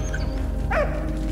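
A single short dog bark or yip from a dog in the video game Valiant Hearts, heard once mid-clip at moderate distance over a steady background of game music and ambience.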